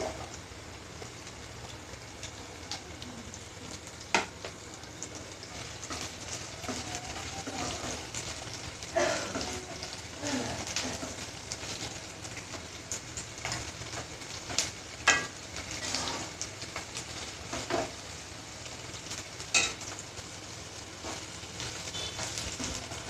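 Garlic cloves frying in a hot pan while making chicken bharta, giving a steady close crackling sizzle with occasional sharper pops and spatters, no talk.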